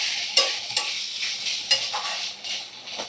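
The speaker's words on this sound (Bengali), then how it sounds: "দিয়ে ভালো করে নাড়াচাড়া করে নিই।" Grated coconut being stirred in a hot cooking pan, close up, with a spatula scraping in a slow rhythm of sharp strokes over a soft sizzle. No one talks.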